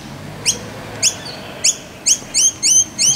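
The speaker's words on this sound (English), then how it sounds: "Some birdies." Noisy miners call outdoors near a beach, a series of sharp, close, repeated chirps that start spaced apart and then come faster in quick runs.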